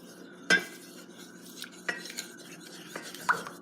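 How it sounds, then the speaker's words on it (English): A metal spoon stirs an oil mixture with ground coriander seed in a small dish, giving several sharp clinks and scrapes at irregular intervals, close and clear with no voices. "And now we're just going to stir this up."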